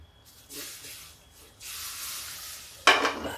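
Milk poured a little at a time into a hot pan for rabri gives short sizzling hisses, with a bright, louder burst of sizzle near the end and quieter pauses between pours.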